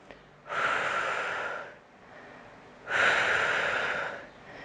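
Two long, audible breaths during an at-home resistance workout for seniors, each a sustained airy rush close to the microphone, separated by a brief quieter pause.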